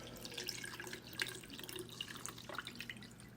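A jar of hide glue is filled with water, giving soft, steady trickling and dripping sounds, faint and close, with no talk.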